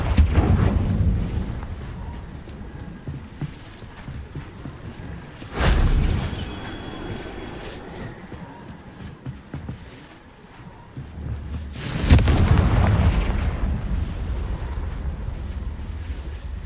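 Fiery Confringo blast spells exploding in Hogwarts Legacy, two loud booming bursts a few seconds apart over a steady rumbling game background.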